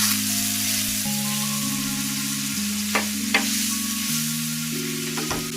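Garlic, ginger paste and spices fry in a pan for a Bengali prawn and taro stolon dish, a steady sizzle with a few sharp stirring clicks, while soft background music plays throughout.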